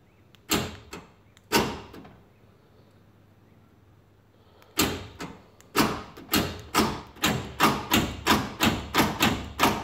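Central door locks on a Nissan D21 Navara ute clunking as they unlock and lock: two thumps, a pause, then a quick run of evenly spaced close mechanical thuds.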